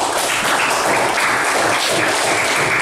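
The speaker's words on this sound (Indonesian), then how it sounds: "Boleh tepuk tangan untuk Hafiz" A classroom of students in an Indonesian hadith lesson applauds a classmate, with dense, loud clapping that holds steady from start to finish.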